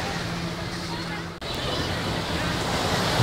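Surf at Baka-Baka beach in Carita rolls in a continuous broad wash under blustery wind, with a voice talking over it.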